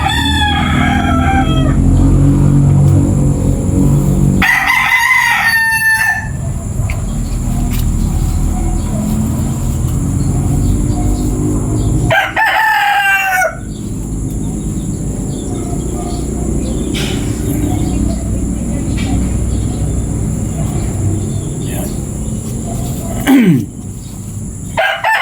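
A White Kelso gamecock stag in a straight pen crows loudly and close several times, with rooster calls spaced across the clip over steady background hum and insect noise.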